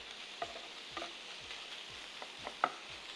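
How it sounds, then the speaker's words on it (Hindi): Chicken mince is stir-fried in a pan, a spatula striking and scraping in an even rhythm about twice a second over a faint, quiet sizzle, close by, with no voices. "इसको जल्दी हमने स्टर फ्राई करना है।"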